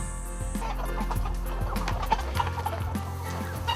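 Hens at a poultry farm cluck in a steady stream, with several birds chattering close by in short, overlapping calls. A low rumble sits underneath at the start.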